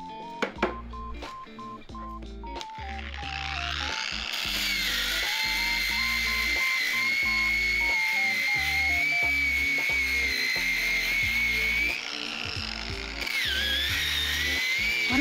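A power tool polishes a cast aluminium Nintendo logo: a high, steady whining drone with shifting pitch, running loud and continuous for most of the stretch after a few short clicks at the start, with background music underneath.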